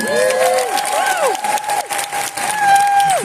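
A convention panel crowd claps and cheers loudly, applause filling the whole moment, with a few whoops and a voice rising above the noise.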